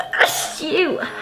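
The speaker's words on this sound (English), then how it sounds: "I'm gonna sneeze." A human sneeze, one sharp burst with a nasal onset followed by a brief voiced tail, close and fairly loud, with a short spoken word just after.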